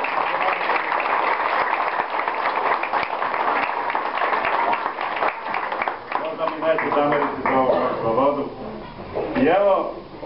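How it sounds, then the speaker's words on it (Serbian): Audience applause fills a poetry reading event, dense sustained clapping at first that thins out toward the end, with a voice speaking over the closing seconds. "Ajde jedan veliki aplauz."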